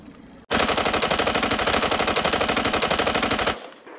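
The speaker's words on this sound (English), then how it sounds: "let's go back and figure out how fast this AR-15 went through that 40 round mag" A bump-stock AR-15 rips through a 40-round magazine in one continuous three-second burst of rapid, evenly spaced shots, loud and close, ending abruptly as the magazine empties.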